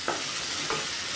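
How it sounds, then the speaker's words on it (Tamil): Diced potatoes and carrots for vegetable biryani are stirred in a pan, with two quick scraping strokes over a soft steady sizzle. "உருளைக்கிழங்கு இதை நல்லா மிக்ஸ் பண்ணிக்கோங்க"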